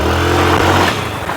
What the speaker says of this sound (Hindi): अभी इस बाइक में इतना तगड़ा पिकअप दे रही